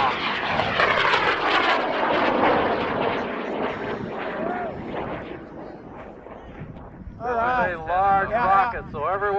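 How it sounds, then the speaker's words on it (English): An M1939 WAC Corporal replica rocket ignites and lifts off with a loud, broad roar that slowly fades as it climbs. Voices rise over the fading noise near the end. "We have ignition"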